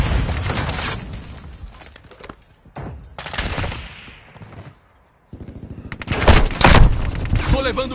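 Gunfire in a Call of Duty Modern Warfare 2 multiplayer match: bursts of automatic fire and explosions, with a pause midway and louder volleys near the end, mixed with in-game voice callouts.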